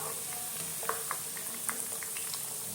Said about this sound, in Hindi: 3 से 4 मिनट तक ही आलू को भी फ्राई करना है